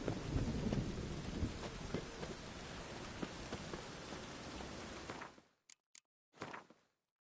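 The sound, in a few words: rain in a video game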